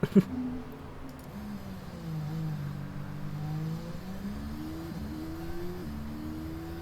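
A Formula 1 race car engine in the video game F1 Manager 23 whines and revs at a moderate distance, its pitch rising and falling through gear changes, quiet and continuous after a brief click at the start.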